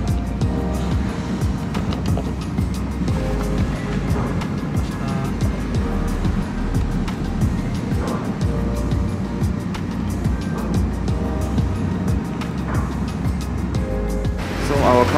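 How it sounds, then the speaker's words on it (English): A car drives up a ramp onto a ferry ship in Japan, bound for Kumamoto Prefecture. A steady low engine and road rumble with hollow clanks continues throughout while someone talks over it. "now we are boarding the ship. The first time I'm driving onto a ship itself."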